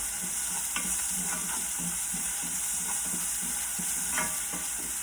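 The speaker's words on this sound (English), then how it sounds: "you want to saute this out a little bit until it's, you know, until the onions are nicely cooked" Onions sautéing in a pan with a little oil, a steady sizzle under repeated scraping and stirring strokes, close and fairly loud with no talking.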